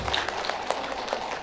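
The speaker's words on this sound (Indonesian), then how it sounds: "Terus sekarang tepuk tangan untuk Bu Zul." An audience claps for a teacher, a dense, continuous patter of many hands at moderate loudness with a few sharper claps standing out.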